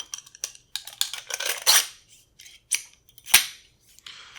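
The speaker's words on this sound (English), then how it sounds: "you got to reinsert your operating rod and recoil spring into the gas tube" An M+M M10X rifle's operating rod and recoil spring being pushed back into the gas tube, a close series of sharp metallic clicks, scrapes and spring rattles in irregular bursts with quiet gaps.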